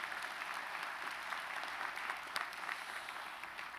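A church congregation applauds the choir in a steady, fairly soft burst of many hands clapping that lasts throughout, with no voices over it.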